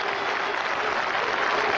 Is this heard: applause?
yes